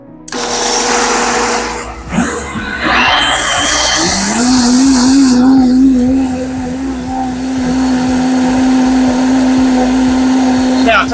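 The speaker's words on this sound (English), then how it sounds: "Now it takes a good while to grind up mustard." An electric grinder working on mustard seeds for brown mustard: a sharp start-up clatter, then a loud, steady high motor whine that holds for several seconds, close by.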